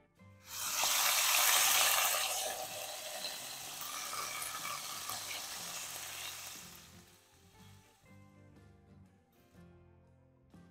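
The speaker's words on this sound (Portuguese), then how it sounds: "A carninha tá estralando." Meat fries in a pan with a loud, crackling sizzle that erupts suddenly, then gradually settles into a softer, steady popping.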